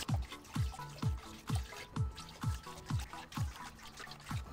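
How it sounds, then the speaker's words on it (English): Water splashes rhythmically over raw beef short ribs being rinsed clean, a steady repeating slosh roughly every half second with a faint trickle underneath. "So I'm going to wash this beef really well."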